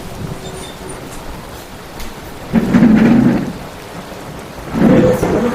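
Heavy rain pours steadily outdoors while two rolls of thunder swell and fade, each lasting about a second, fairly near and loud over the constant hiss of rainfall.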